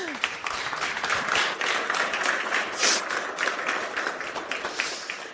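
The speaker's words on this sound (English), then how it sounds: "this is your applause." Audience applause at an agricultural equipment maker's tech day: a steady wash of clapping from a crowd, moderately loud and continuous, with faint voices mixed underneath.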